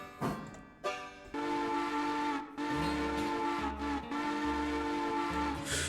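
A loud, sustained steam train whistle blows in repeated long blasts in the video game Railroader, with rhythmic chugging underneath, heard alone with no talking.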